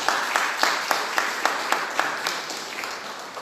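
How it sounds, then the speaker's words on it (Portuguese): A church congregation applauding in steady rhythmic claps, a dense wash of hands beating roughly twice per second, fairly loud and continuous with some voices mixed in. "Você pode aplaudir o Senhor."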